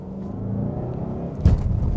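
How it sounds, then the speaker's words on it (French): The 2.5-litre engine of a 2019 Mazda CX-5 GT hums with a low steady rumble, then swells into a louder surge as it accelerates, heard from inside the car with no talking. "comme vous l'entendez, le moteur rugit très très bien"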